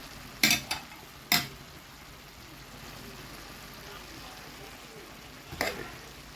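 Small diced tomatoes are stirred in a pan, with a quiet continuous sizzle under a few sharp scraping clacks of a utensil, two close together early and one near the end.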